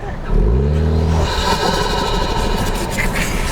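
Toyota Trailhunter engine and exhaust revving off-road, a loud close burst of acceleration that fades into rough driving noise and rattling.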